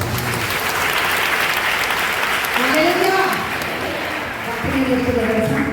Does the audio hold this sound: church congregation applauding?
yes